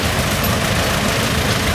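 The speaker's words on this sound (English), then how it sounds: "1929 Model A Roadster" A 1929 Ford Model A Roadster engine idles with a steady, low rumble at a threshing bee parade, close and fairly loud, with no voices over it.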